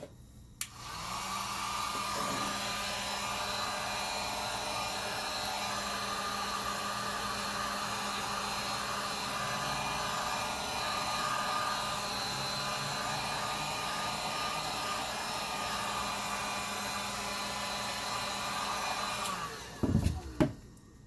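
Heat tool blowing steadily onto a styrofoam aquarium background, a loud continuous rushing hum that runs almost the whole time before cutting off with a few clunks at the end.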